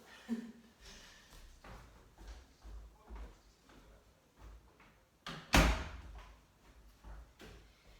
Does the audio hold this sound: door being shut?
yes